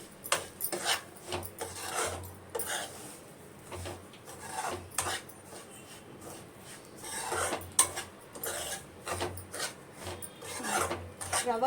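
Bombay rava (semolina) being roasted in a pan, a repeated rough scraping and rasping of a spoon stirring the dry grains against the metal, with faint clinks between strokes.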